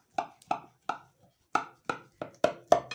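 A knife cuts down through slices of freshly baked, cake-filled baklava, eight crisp, evenly spaced chops in quick succession, close and clear with no voices.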